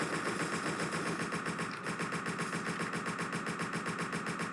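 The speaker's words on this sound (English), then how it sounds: "it's just firing 100 bullets continuously" Continuous rapid automatic gunfire from the video game Entry Point, a dense unbroken stream of shots that stays loud and steady from start to finish with no talk over it.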